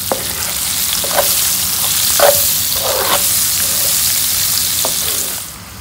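Chili, turmeric, a whole garlic clove, onion and salt sizzle in hot oil, a loud steady frying hiss close up, broken now and then by the scrape of stirring.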